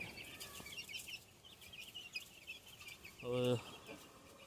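Hens cluck softly among background farmyard noise, with a louder, drawn-out cluck near the end.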